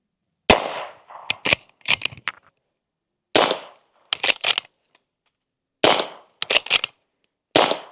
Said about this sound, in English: we'll go ahead and take a couple shots with this just to do a little sound comparison